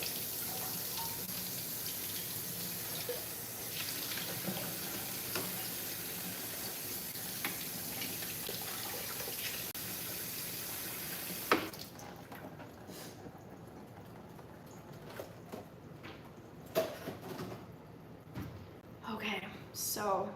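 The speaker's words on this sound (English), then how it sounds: "I should wash the mushrooms." A kitchen tap runs in a steady, faint gush while mushrooms are washed, then stops partway through, leaving scattered clinks and handling sounds.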